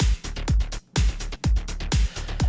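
A punchy electronic beat with deep kicks and bass that pump and duck rhythmically from sidechain compression, the bass dipping briefly after each kick hit.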